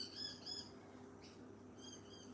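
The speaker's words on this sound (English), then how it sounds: "That's some Australian birds for you fighting each other." Australian soldier birds squawk in short, faint, harsh bursts while harassing other birds, with a brief call in the middle and another pair of squawks at the end, distant and thin.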